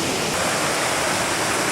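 Flowing water of Flow Creek during a crossing on the Rockwall Trail, a steady loud rushing wash filling the whole clip with no pauses.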